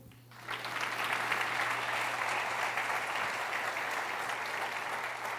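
A congregation at a Christian sermon claps together in sustained, steady applause that starts abruptly and carries on evenly for several seconds.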